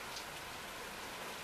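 Steady, even hiss of rain falling on surfaces, a constant wash of fine patter with no voices.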